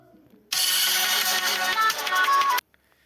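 A phone rings during a class 10 chemistry lesson on acids, bases and salts: a loud, steady, bright electronic ringtone bursts in close by for about two seconds, then cuts off abruptly, with no talk over it.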